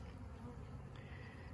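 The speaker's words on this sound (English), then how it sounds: "We'll let all the bees settle inside the box" A honeybee swarm settles around a hive box, giving a faint, continuous buzzing hum with no other clear sounds.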